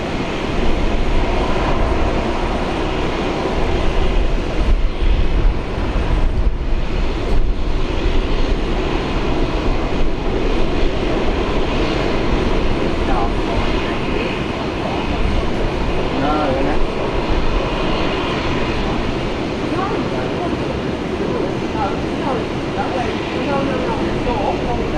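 An airliner takes off at Brisbane airport, its loud jet engine roar heard from a distance and swelling then holding steadily, with some talk over it.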